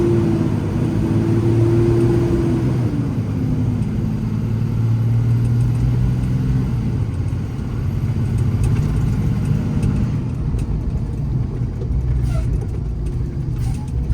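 A 2015 Ford F750 truck with a 300-horsepower Cummins 6.7 ISB diesel engine runs loud and close with a steady low rumble, and its engine note rises and falls through the first half.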